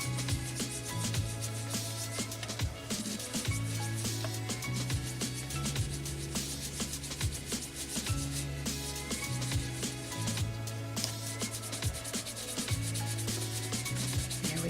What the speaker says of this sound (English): So now I'm just going to rub again.